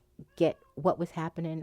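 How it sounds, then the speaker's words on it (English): A pet cat meows several times in quick succession, close and fairly loud, with a person talking over and between the calls. "That's my cat"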